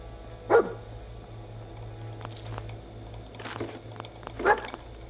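Dogmeat, the dog companion in Fallout 4, gives a couple of short yips or barks over steady game background hum, with faint rustling of items being picked up in between.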